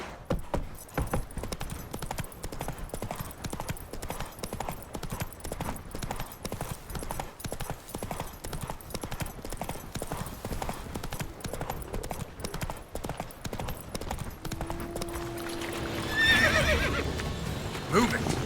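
Horse hooves clip-clop steadily with occasional whinnies from Roach the horse in The Witcher 3, a rhythmic gallop running throughout, with a brief rise in noise near the end.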